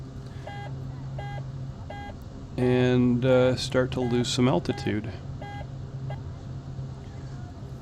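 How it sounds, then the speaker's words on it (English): Landing gear warning alarm in the X-Plane flight simulator, sounding while the throttle is pulled back with the gear still up: evenly spaced repeating electronic beeps run throughout, with someone talking over the middle section. "That alarm was just the fact that I have the throttle all the way back and I don't have the gear down yet."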